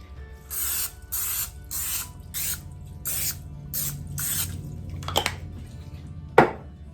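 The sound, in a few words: nonstick cooking spray on baking dish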